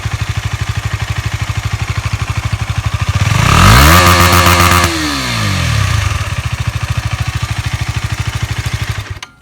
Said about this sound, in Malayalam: ഇപ്പോൾ നിങ്ങൾ കേട്ടത് നമ്മളെ സ്റ്റോക്ക് എക്സോസ്റ്റിൻ്റെ സൗണ്ടാണ്.